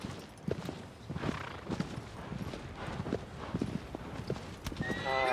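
Horse galloping in the Shadow of the Colossus video game, rapid rhythmic hoofbeats with a neigh near the end, steady and fairly close throughout.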